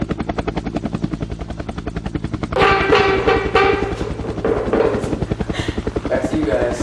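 A helicopter flies over a battle near Quebec, its rotor thumping in a steady loud chop throughout, with a burst of broadband noise like gunfire or blasts layered over it midway.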